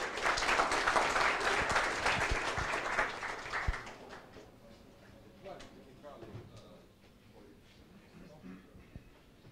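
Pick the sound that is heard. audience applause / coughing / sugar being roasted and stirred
audience applause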